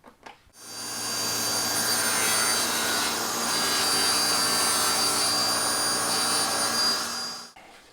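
A Festool CSC table saw cuts wood with dust extraction running: a loud, sustained whine and rushing roar starting after a brief pause, holding for several seconds, then cutting off abruptly.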